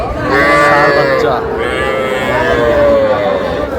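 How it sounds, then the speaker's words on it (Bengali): Young Sahiwal bull calves give long, close mooing calls, one drawn-out moo followed by another, with faint background noise from a cattle market. "ষাঁড় বাচ্চা দুটাই না? ষাঁড় বাচ্চা। নাভি আছে, শাইওয়াল।"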